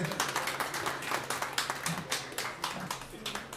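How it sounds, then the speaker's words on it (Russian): Audience applause at a concert: a steady patter of many hands clapping, moderately close and fairly even throughout, no voices over it. "Аплодисменты."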